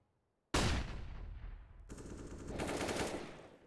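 Rifle gunfire in the video game CS:GO, on the Train map: a sudden loud automatic burst that trails off, then a second sustained volley of rapid shots.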